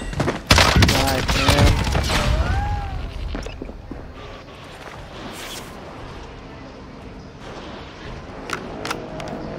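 Gunfire in the video game Call of Duty Warzone Rebirth: a dense burst of loud shots and impacts up front, tapering into scattered distant pops, with radio-style voice callouts over the action.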